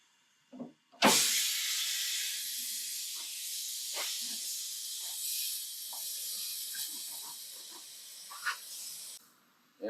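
Compressed air hisses steadily and loudly into a 10.5-inch wide tire on an 8.5-inch wide rim to set the bead, a continuous rush lasting several seconds with faint knocks and clicks under it before cutting off.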